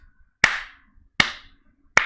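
Three sharp, loud hand claps, evenly spaced about three-quarters of a second apart, each with a short ringing decay in a room and no one talking between them.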